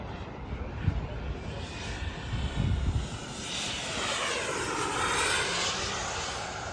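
Remote-controlled model jet fighter at a model airfield in Miaoli, its turbine roaring and sweeping in pitch as it passes, with wind buffeting and people talking faintly underneath.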